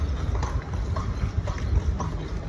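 A horse's hooves clip-clop in a steady rhythmic pattern while pulling a buggy through the streets of Natchez, Mississippi, close and moderately loud over low road rumble.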